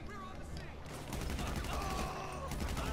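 Rapid bursts of gunfire in GTA 5, dense and continuous across the moment, with a voice talking over the shooting.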